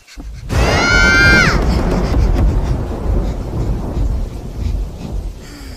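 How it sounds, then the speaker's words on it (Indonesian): Heavy rain pours down steadily alongside rumbling thunder, with a brief high wavering tone near the start. "Hujan lebat tu."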